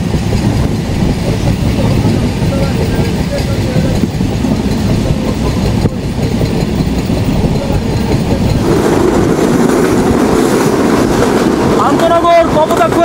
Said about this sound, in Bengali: মোটামুটি গতি নিয়ে আমাদের ট্রেন থ্রু পাস গেল খুলনার ফুলতলা রেলওয়ে স্টেশন